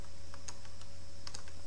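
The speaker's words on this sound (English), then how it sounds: "So type where the cursor is blinking," A handful of light, crisp keystrokes on a computer keyboard tap out Python code, scattered clicks over a constant background hum and whine.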